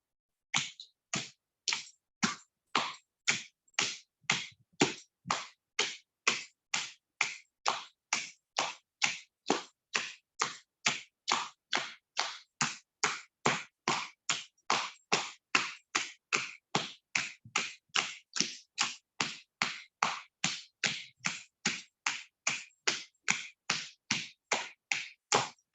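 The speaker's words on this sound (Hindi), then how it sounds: "ढोलक ताली के लिए दोनों हाथों की हथेलियों से हमने अपने दोनों पैरों के तलवों पर ताली बजानी है।" Palms slap rhythmically against the soles of the feet in a laughter yoga session, a long even series of sharp, crisp claps repeating about twice per second with no talk.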